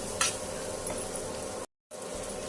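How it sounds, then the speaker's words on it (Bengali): Onion fries in a pan with a steady, moderate sizzle and crackle, a brief scrape near the start and a short silent gap partway through. "আমার পেঁয়াজটা ভাজা ভাজা হয়ে গেছে"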